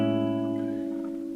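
A major 7 chord strummed once on an acoustic guitar, its notes ringing together clearly and sustaining as the chord slowly decays, with no voice over it.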